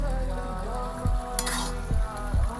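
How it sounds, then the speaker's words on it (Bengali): Grated carrot and coconut bubbling with cardamom in a pan, a close, steady simmering hiss with a few soft scraping stirs and one brief sharp clatter. "এবার আমি এইভাবে ভালোভাবে নাড়তে থাকবো।"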